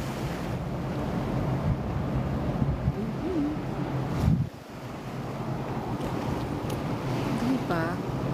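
Wind gusts outdoors on a warm sunny day, steady rumbling buffeting against the microphone throughout, with a brief stronger gust midway and a faint voice and distant sounds underneath.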